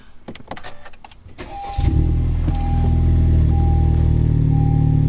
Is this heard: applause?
no